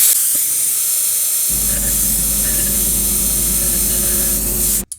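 A brake bleeder sucks oil out of the engine cylinders of a Dodge Dart through the spark plug holes. It makes a steady, close hissing suction that runs alone for about five seconds before cutting off abruptly.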